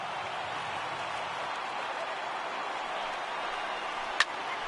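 Stadium crowd of about 34,000 fans in the baseball video game MLB The Show 18 rising to its feet, a steady broad roar throughout with one brief sharp crack near the end.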